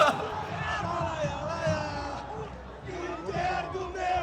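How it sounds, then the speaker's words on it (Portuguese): Internacional football supporters roar and shout in a stadium as a goal is scored, a dense crowd of voices swelling and chanting together with no clear single speaker. "A torcida do Internacional vibra com o gol do arquirrival."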